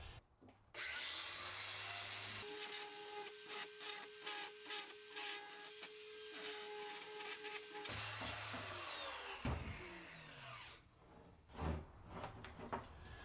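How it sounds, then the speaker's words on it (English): Sanding down the end of a pipe for a DIY pontoon boat cover support, a loud continuous abrasive whirring and rubbing that runs for several seconds, then stops, leaving a few handling knocks. "I want to sand down the end of the pipe a little bit"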